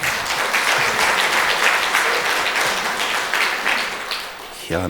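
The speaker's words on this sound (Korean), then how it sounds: "이렇게 설교 시작할 때 박수 치는 건 생전 처음입니다." A church congregation breaks into loud, sustained applause at the start of a sermon, thick continuous clapping filling the room until it cuts off abruptly at the end.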